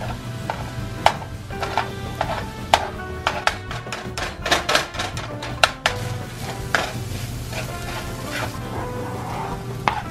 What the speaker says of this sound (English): I'm gonna put in the onions first, and we're just gonna let that sizzle for a little bit.